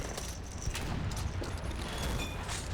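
Soldiers open fire across a large battle map in Men of War with the RobZ Realism Mod, a rapid scatter of distant gunshots and small booms crackling continuously over a dense background rumble.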